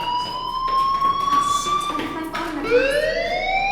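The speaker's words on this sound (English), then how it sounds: "Hey, do you hear that fire alarm?" A school fire alarm wails in the video game Life Is Strange, a steady, loud rising and falling electronic siren tone that fills the whole stretch.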